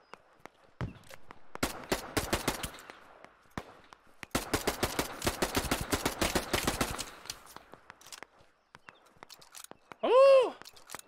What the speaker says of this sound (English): Somebody up here shooting.